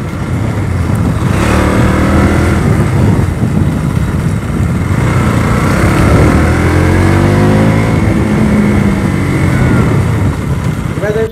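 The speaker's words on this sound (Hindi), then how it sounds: "मेरी बाइक में से आवाज़ ही इतनी आती है, मैं क्या करूँ" A KTM Duke 200 motorcycle engine revs loudly and close, its pitch climbing and falling in repeated sweeps over a steady rumbling base for the whole stretch.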